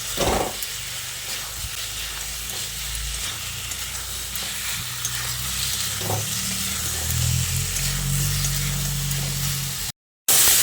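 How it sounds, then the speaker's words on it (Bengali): Fried potatoes sizzle in a pan as they are mixed into spices, a soft steady hiss with occasional scraping stirs, fairly quiet and with no talk. "ভাজা আলুটা দিয়ে মশলার সঙ্গে খুব ভালো করে মিশিয়ে নিচ্ছি।"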